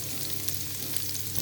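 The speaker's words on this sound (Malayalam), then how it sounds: "2 സബോള നമ്മൾ അരിഞ്ഞ് വെച്ചത് ഇതിലിട്ട് വഴറ്റണം" Sliced onions sauté in a pan with salt, cumin and fennel seeds over ginger and garlic for a chicken curry, giving a brief, dense, steady sizzle heard close up.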